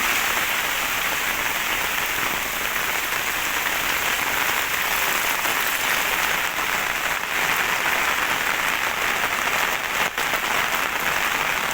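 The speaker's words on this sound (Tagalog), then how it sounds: "sobrang lakas ng ulan ba dito sa may sa amin" Heavy typhoon rain pouring steadily, a dense continuous hiss with no breaks, loud and close.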